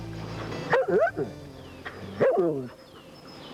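A Dutch Shepherd barks twice, two close, loud yelping barks about a second and a half apart, with quieter room noise between them.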